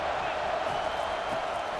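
Football stadium crowd roaring steadily on a third-down defensive stand, a dense, loud wash of cheering and whoops filling the whole stretch without pause.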